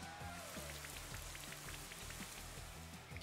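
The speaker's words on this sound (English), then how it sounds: "it's just gonna use Rain Dance again" Rain Dance rainfall effect from the Pokémon Sword video game, a steady wash of patter and droplets running continuously under layered background game music, with no talk.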